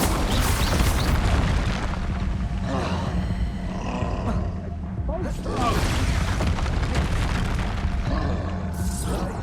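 Booming Expulso explosion spells blast again and again in Hogwarts Legacy, loud and continuous, with roaring, rumbling game effects and voices calling out over the din.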